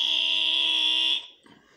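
A human voice imitating a buzzer with a kargyraa-style vocal scream, producing a loud, steady, harshly buzzing drone that holds for about a second before cutting off abruptly into near silence.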